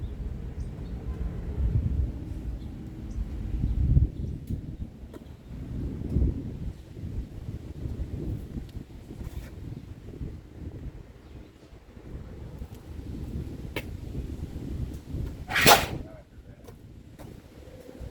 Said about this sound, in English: Breezy out here today.